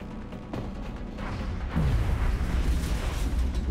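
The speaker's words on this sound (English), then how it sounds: "I'm hearing lots of explosions and things." Explosions in the video game XCOM Enemy Unknown rumble as a muffled, continuous low booming during combat, moderately loud and building toward the end, with no voices.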